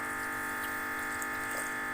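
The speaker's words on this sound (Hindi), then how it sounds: "मुझे इतना शोरबा चाहिए, इसलिए मैं इसके अंदर पानी और डालूँगी।" Water pours steadily into a pot of matar gosht curry, a continuous close splashing gush with a bright tonal ring, uninterrupted and without talk.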